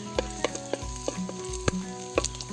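Ginger slices dropped into a hot pan for kadyos-kamansi-pata, giving a steady sizzle broken by several sharp stirring clacks, close and fairly loud, with no talking.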